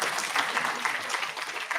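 A round of applause from students at a college induction program, brief, steady clapping from a room full of people at moderate loudness.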